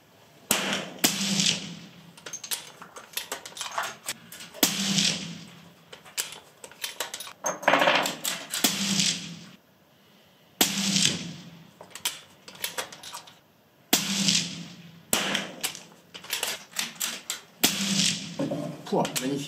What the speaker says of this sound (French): Allez, on passe au tir.